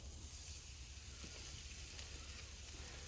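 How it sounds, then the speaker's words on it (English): Sausage patties sizzle in a hot pan with a soft, steady hiss and faint crackle, quiet and continuous, with no talking. "So you want that little bit of sizzle."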